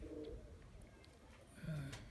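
Tippler pigeons in a fly loft give low cooing calls, with one louder coo near the end over a quiet, noisy background.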